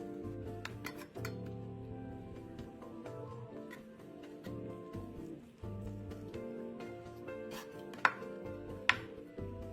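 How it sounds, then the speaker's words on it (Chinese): A knife dices a single shiitake mushroom on a cutting board, giving a run of quick, close chopping taps with a few sharper clicks near the end and no talking. "香菇1朵，切成丁"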